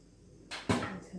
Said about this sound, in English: I'm going to turn on my gas.